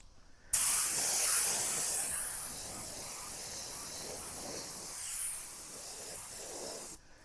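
An HVLP spray gun sprays acrylic cabinet paint outdoors, a steady loud hiss that starts suddenly, runs continuously for about six seconds with a slight surge midway, and stops sharply.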